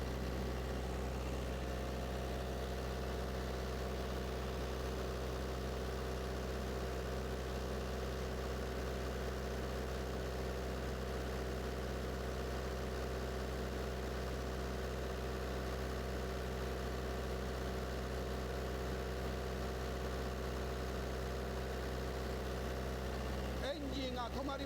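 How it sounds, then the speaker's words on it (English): A water-fed engine running continuously with a steady low hum and drone, unchanging throughout, under a speaking voice, with a brief clatter at the very end. "The engine keeps on running."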